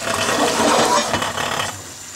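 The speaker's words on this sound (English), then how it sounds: "What is this noise? This. Sta bollendo. It's boiling the water" Water coming to a boil in a cooking pot for pasta, a steady close bubbling and hiss that fades slightly near the end, heard on its own.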